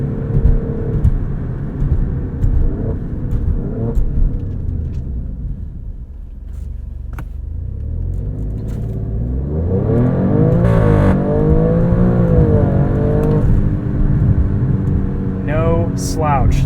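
A 2022 Alfa Romeo Stelvio Quadrifoglio launches hard in race mode, its engine rumbling at idle, then roaring loudly up through the revs with quick gear-change dips, close and dominant, with a voice briefly over it.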